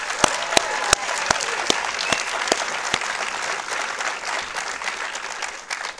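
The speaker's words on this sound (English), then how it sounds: "give one last round of applause to Stellwagen Bank National Marine Sanctuary for its 30th" A crowd claps steadily, with several sharper individual claps standing out early on before the applause settles into an even patter and starts to fade.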